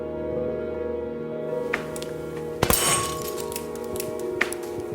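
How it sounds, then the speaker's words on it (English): A sudden sharp crack of a pressurized glass container bursting, followed by a few scattered clinks of shards, set against a steady low hum and fairly close. "It popped open, glass flew."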